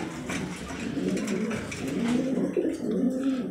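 A racing pigeon coos in low, soft, repeated warbling phrases, close by and continuous, with faint background noise and no talking.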